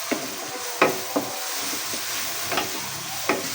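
Chopped onions frying in oil in a pan while being stirred, giving a constant close hiss with several sharp scraping and knocking strokes of the spoon against the pan, and no talking.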